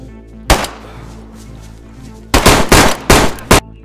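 Video game gunfire in DayZ: a single loud gunshot, then a rapid cluster of five sharp shots about two seconds later, with quiet background hum in between.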